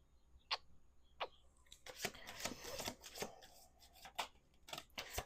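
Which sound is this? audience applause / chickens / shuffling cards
shuffling cards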